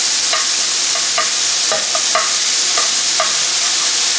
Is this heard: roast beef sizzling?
yes